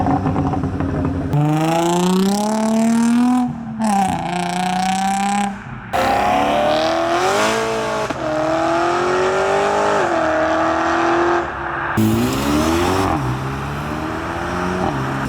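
A modified Mark 5 car pulls away from a car meet, engine revving loudly in rising sweeps with sharp gear-change breaks, close and dominant throughout.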